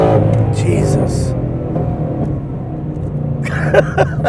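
A car accelerates hard from about 60 mph, its engine roaring close and loud with a strong rising drone for several seconds. A voice briefly breaks in near the end.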